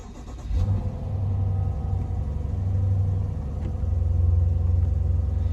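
A 2020 BMW M850i xDrive First Edition coupé's 4.4-litre V8 cranks and fires at around half a second, then settles into a loud, deep, steady idle rumble that stays close and strong to the end, with no talking.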